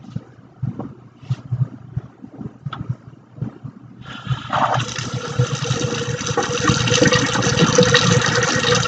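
Water flows and pours with a rising, steady rushing hiss that swells after a few seconds of quieter trickling and handling sounds.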